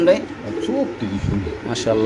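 Pigeons coo in a cage at a market stall, soft throaty calls repeating close by over a steady murmur of voices and background chatter.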